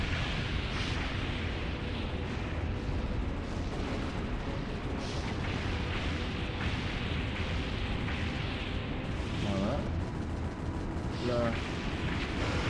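Gunfire and explosions from the PS2 video game Reign of Fire form a dense, continuous rumbling barrage with booms and bursts throughout, while a person speaks briefly over the noise.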